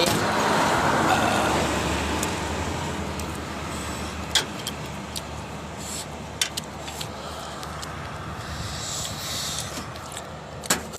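Road traffic with ten-wheel trucks passing fills the scene. A loud rumbling pass-by fades into a continuous roadway roar, broken by scattered sharp knocks and clicks nearby.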